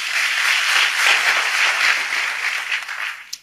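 Congregation applause at a church sermon, a full, close burst of many hands clapping together that holds steady, then tapers off with a final sharp clap at the end.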